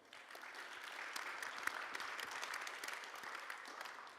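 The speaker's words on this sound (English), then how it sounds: "Let's give these guys a big round of applause." A conference audience applauds panelists at a Bitcoin regulation and law event in Berlin, producing steady, dense clapping that holds at an even level for about four seconds without any speech.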